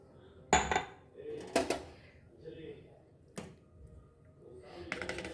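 Chettinad paal kozhukattai stirred with strained jaggery syrup in a vessel, giving a few sharp metal clinks and scrapes of a utensil against the pot spaced across a quiet background.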